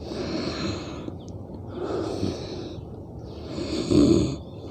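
Slow, deep belly breathing during yoga practice, with audible breathy inhales and exhales that swell and fade in long cycles, up close and with no talking.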